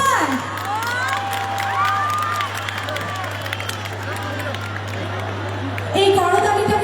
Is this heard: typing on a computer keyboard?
no